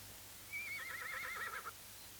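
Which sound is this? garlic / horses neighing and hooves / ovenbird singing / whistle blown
horses neighing and hooves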